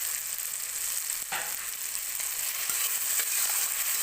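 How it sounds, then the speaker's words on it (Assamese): Chopped tomato sizzles and fries in a hot pan with a constant bright hiss, with occasional soft stirring scrapes and no talking. "এতিয়া মোৰ এইখিনি ভজা হৈ গৈছে আৰু ইয়াত দি দিম মই এটা কাটি লোৱা বিলাহী।"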